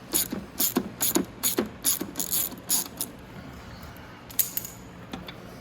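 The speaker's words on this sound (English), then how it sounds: "so let's take out the bolts" A ratchet clicks in quick bursts while removing the mount bolts on a Venom x22GT 250cc automatic motorcycle, with close, crisp repeated ratcheting strokes and short pauses between them.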